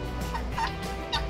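Fowl-like bird calls repeatedly in short, faint honking clucks over a steady low background hum, heard in a waterside setting.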